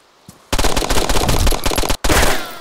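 Loud, close bursts of rapid automatic gunfire in the video game DayZ, two sustained volleys separated by a short gap, with a faint single shot just before.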